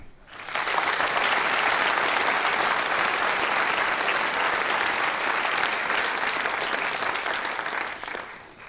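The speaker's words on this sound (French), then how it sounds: "J'aimerais aussi que vous applaudissiez le Jazz Band de Mency" A large crowd at a town New Year's greetings ceremony applauds a local jazz band, loud dense clapping that swells in quickly, holds steady for several seconds and then tails off.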